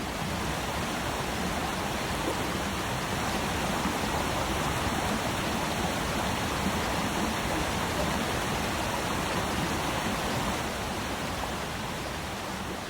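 Waterfall in Alaska, a steady, loud, full roar of falling water that stays continuous and even throughout, with no voices.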